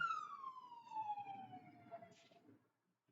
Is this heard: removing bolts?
no